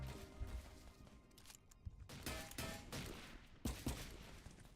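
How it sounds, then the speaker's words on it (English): Scattered bursts of gunfire in a Roblox first-person shooter game crack and echo at moderate distance, quick volleys separated by brief pauses, fairly quiet overall. "I can hear gunshots."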